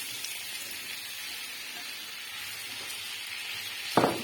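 Potatoes for a Spanish potato omelette fry in hot oil in a pan with a soft, steady hiss and faint crackle, then a brief louder clatter near the end.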